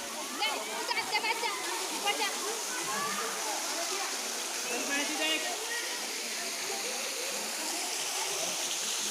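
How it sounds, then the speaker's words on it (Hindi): Steady broadband rush of a natural waterfall at a temple site fills the whole stretch, loud and continuous, with a voice speaking over the flowing water. "झरना बहत है प्राकृतिक।"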